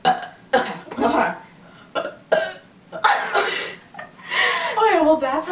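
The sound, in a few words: burp during a burp contest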